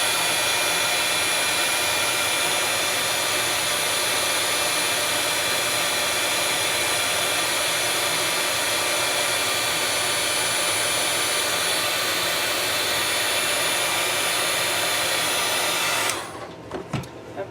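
A hot-air heat tool blows steadily on a clear plastic butterfly shape held flat in the middle, a constant loud whooshing hiss that runs unbroken before cutting off near the end.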